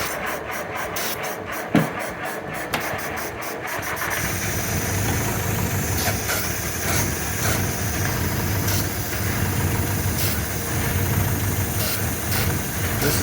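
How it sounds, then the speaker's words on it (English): A 1948 Willys CJ-2A cranks briefly and catches after years unused, then settles into a steady, rough idle close by, with a faint rhythmic pulsing through the run. "This is probably the first time it's been started in years."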